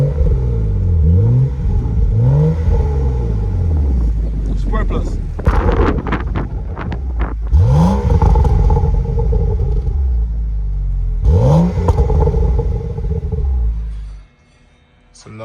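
BMW F30 engine with stock resonator, heard from inside the cabin, revving in repeated deep rising bursts with low rumble and some wind noise, a voice speaking briefly before the sound drops away at the end.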